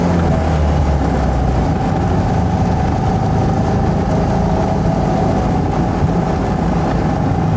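Small 10-horsepower scooter-derived engine of a Trojan 200 (Heinkel Kabine) bubblecar accelerating on the road, a loud, steady buzzing drone throughout with no talk.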